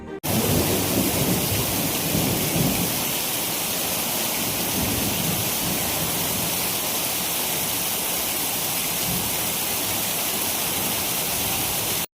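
A heavy downpour with thunder in Malpur, Aravalli district, Gujarat: a loud, continuous roar of rain, with a thunder rumble near the start and no voices.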